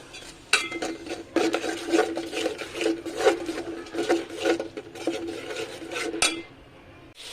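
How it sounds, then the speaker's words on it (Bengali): A frying spice paste of ginger, garlic, turmeric and salt is stirred in a pot, with repeated scraping and clinking of a utensil against metal over a low sizzle, close and irregular, ending in a sharp knock. "পরিমাণ মতো লবণ দিয়ে একটু মশলাটাকে ভালোভাবে কষিয়ে নেব"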